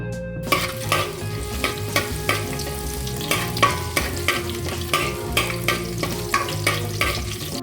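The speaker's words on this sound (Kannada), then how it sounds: "ಶುಂಠಿ ಎಣ್ಣೆಡು ಫ್ರೈ ಮಲ್ಪುಗ ಕಂದು ಬಣ್ಣ ಬನ್ನೆಟ ಬನ್ನೇಟ ಎಲ್ಲ ಫ್ರೈ ಮಲ್ಪಲೆ" Ginger sizzles in hot oil under a steady wash of background music with a rhythmic beat, the frying hiss partly masked but continuous throughout.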